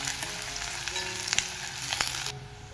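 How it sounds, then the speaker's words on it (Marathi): Onion with garlic frying in a pan for a carrot-greens sabzi, a steady close sizzle with a few crisp pops and stirring scrapes, ending abruptly. "आपण आता कांदा घालून घेऊया"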